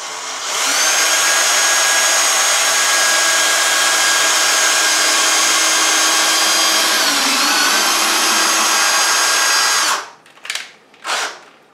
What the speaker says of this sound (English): now that we drilled the smaller holes in it